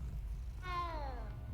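A cat in the video game Hogwarts Legacy gives a single short meow after being petted, a clear rising-then-falling mew lasting under a second over a low background rumble.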